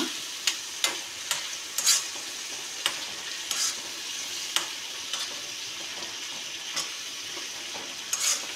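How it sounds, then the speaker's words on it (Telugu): Paneer stir-fried in a pan, a continuous bright sizzle punctuated by about a dozen sharp scraping and tapping strokes of a spatula at uneven intervals. "ఇది పన్నీర్ ఫ్రై"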